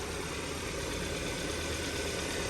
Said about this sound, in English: Look at how smooth this engine's running.